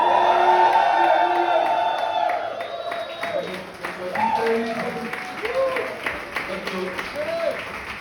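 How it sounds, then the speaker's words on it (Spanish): A church congregation lets out a loud, sustained joyful shout that swells, then settles into a crowd of cheering and whooping voices that carries on at a steady level for several seconds. "Yo quiero que tú le des un grito de júbilo"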